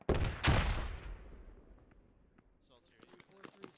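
A frag grenade going off in a squad-based military video game: a loud close blast with a long rumbling decay, then scattered faint shots and clatter as voices talk quietly underneath.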